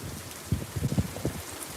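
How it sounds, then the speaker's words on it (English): Rain falls steadily during a summer heat wave in the United States, a soft broadband hiss with a few heavier low patters and thumps in the middle, close and moderately quiet with no talking. "you might like the sound of the rain"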